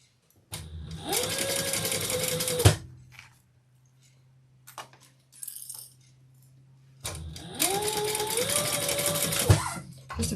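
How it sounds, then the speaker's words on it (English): A sewing machine stitches handbag handles in two short close bursts, each whirring run ending in a clunk, with quiet handling clicks between them. "I'm going to stitch this so it doesn't come apart on me"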